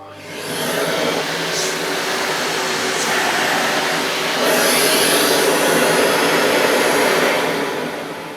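An Electrolux Excellio Z5040 vacuum cleaner switches on after a brief quiet and runs with a loud, steady motor whine and airy rush, rising slightly midway before easing off.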